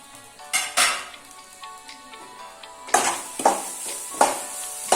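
Grated coconut roasts in a little oil in a pan over a low flame, a soft sizzle broken by sharp scraping and stirring strokes and clinks of a spoon against the pan, with no talking.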